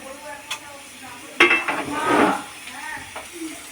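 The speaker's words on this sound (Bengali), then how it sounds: "মশলাটা কষানো হয়ে গেছে, ভাজা আলু দিলাম," Fried potatoes stirred into a frying ginger, cumin, turmeric and salt paste in a pan, with a few sharp clinks of the spatula and a swelling sizzle as the pieces are turned.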